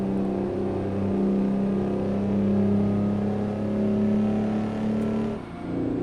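A heavy truck engine, an R600, labors up the first real hill in American Truck Simulator, a loud steady drone holding revs, then dipping slightly near the end, no talk.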